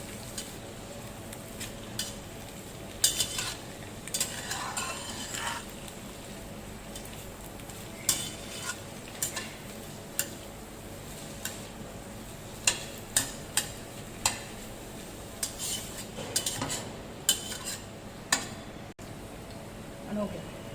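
Spinach and onions being stirred and sautéed in a pan for palak ka saag: a steady soft sizzle with repeated scraping and clinking of a utensil against the pan, close up, with a voice talking at times.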